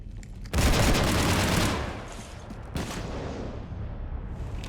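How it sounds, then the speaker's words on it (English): Heavy gunfire raking a ship in Mass Effect 3, a loud sudden burst of rapid shots that fades into a rumbling tail, followed by a second weaker volley. "You want to stop shooting up my ship?"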